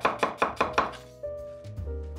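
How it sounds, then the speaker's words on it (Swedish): Knife slicing a red onion into rings on a cutting board, five crisp evenly spaced chops in quick rhythm, close and fairly quiet, followed by a soft low thump and faint handling sounds. "i det här fallet så hackar jag inte rödlöken utan jag bara skär den i skivor"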